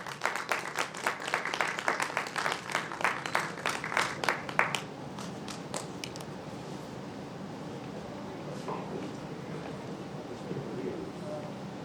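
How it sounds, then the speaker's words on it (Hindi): Applause for a co-host at a youth awards ceremony, a dense burst of hand clapping that runs loud for about five seconds, then gives way to a softer murmur of crowd and room noise. "एक बार इस कार्यक्रम की को एंकर महक जी के लिए जोरदार तालियां हों।"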